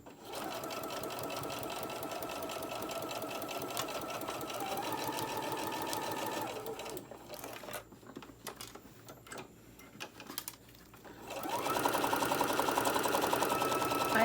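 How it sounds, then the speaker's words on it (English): A sewing machine top stitches a fabric coin pouch in rapid steady bursts of close mechanical ticking, pausing midway for scattered clicks and handling before running again, with no speech. "Now I'm going to take it to my machine and sew a top stitch there"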